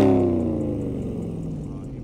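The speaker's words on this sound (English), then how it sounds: "About to say that Corvette is mad quiet and then he started revving." A Chevrolet Corvette at an Albuquerque car meet revs its engine, a moderately loud rev that falls away into a lower rumble over a couple of seconds.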